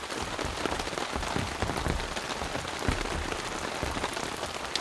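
Rain falls during a mountain storm, drumming steadily and densely on a surface nearby with a continuous hiss of drops and no voices.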